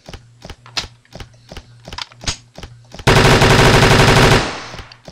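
Evenly spaced single shots thump in a steady rhythm in the Unity 3D FPS Final Horizon, then a loud sustained automatic burst roars for over a second before cutting off.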